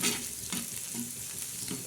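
Turmeric and spices sizzling in a hot pan for egg bhurji, with short scraping stirs at a steady rhythm over the continuous crackle.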